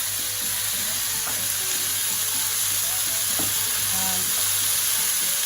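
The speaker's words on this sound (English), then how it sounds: "I'm just going to throw in everything, all the vegetables, the ginger, the garlic," Chopped vegetables, ginger and garlic fry in rapeseed oil for a Jamaican-style goat curry, giving a loud, steady sizzle with faint scraping throughout and a brief spoken word near the start.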